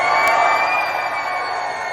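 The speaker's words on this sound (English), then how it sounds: "Listen to the energy of that crowd at the Pennsylvania March for Life in Harrisburg." Crowd of pro-lifers of all ages cheering at the Pennsylvania March for Life in Harrisburg, a steady dense roar of many voices sustained throughout, loud and continuous with a brief sharper shout near the start.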